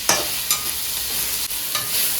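Onions frying with ginger-garlic paste in a pan for duck curry, a steady close sizzle with a few light stirring scrapes.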